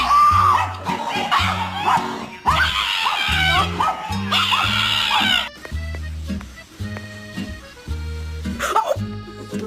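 A pet dog barking and whimpering, with repeated short yips and barks mixed with whining, close by, alongside background music and some voices.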